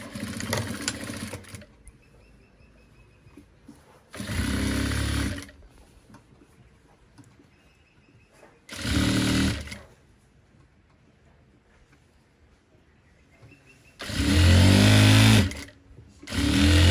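Sewing machine stitching a gown runs in four separate loud bursts, each a few seconds of rapid mechanical whirring, with quiet stretches between; no one speaks.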